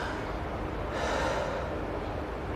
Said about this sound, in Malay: Seolah-olah kita tarik nafas, lepas itu qadar satu nafas